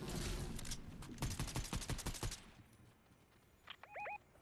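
Rapid gunfire bursts in the video game Fortnite, a dense rattling volley of loud shots that stops abruptly and is followed by a couple of brief chirping game sounds.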